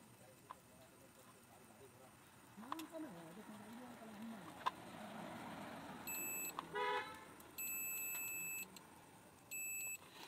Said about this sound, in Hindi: इसमें बीप का साउंड आ रहा है दोस्तों